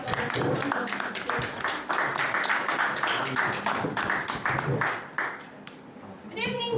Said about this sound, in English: A round of applause for the ones of the